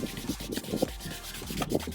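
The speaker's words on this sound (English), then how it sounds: "Now I gotta sand that out." Hand sanding of an oxidized headlight lens on a 2004 Honda Accord: soft rhythmic back-and-forth rubbing strokes, close and fairly quiet, with no voices.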